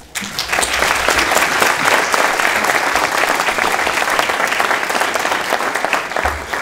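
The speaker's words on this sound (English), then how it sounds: "Big round of applause for Greg Hamilton." A loud, steady round of applause from an event audience welcomes the sheriff of Travis County, with many hands clapping close and continuously for several seconds before it briefly dips at the end.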